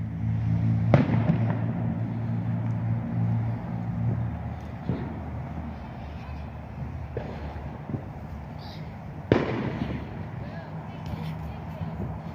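Fireworks booming at night along a river, with a few distinct sharp blasts rising over a steady rumbling, wind-buffeted background.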